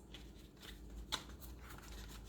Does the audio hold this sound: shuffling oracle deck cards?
yes